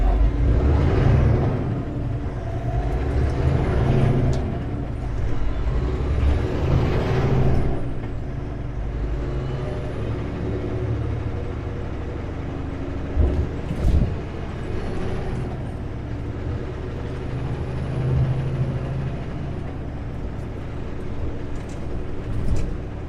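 A wide-load truck rolls through town with a low engine rumble, high whining tones and sharp air-brake hisses, close and steady over passing traffic.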